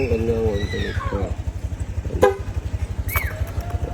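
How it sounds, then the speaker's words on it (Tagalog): A Kia horn fitted to a Honda Click V2 scooter gives one short, sharp honk midway, then a higher chirping toot near the end, over a steady idling engine rumble while someone talks. "Sa busina ni Sir, nilagay po natin Kia horn."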